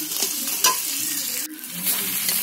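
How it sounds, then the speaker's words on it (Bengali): Spice masala with ginger paste for ghugni sizzles and fries in a pan while being stirred, a steady close hiss broken by scraping strokes of the spoon. "আদা বাটা দিয়ে 2-3 মিনিট একটু কষিয়ে নিয়ে"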